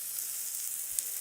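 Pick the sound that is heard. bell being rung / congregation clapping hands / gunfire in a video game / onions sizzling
onions sizzling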